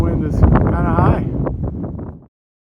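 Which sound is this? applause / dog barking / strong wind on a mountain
strong wind on a mountain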